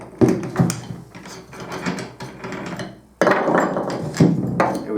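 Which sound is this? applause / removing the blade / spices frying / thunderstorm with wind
removing the blade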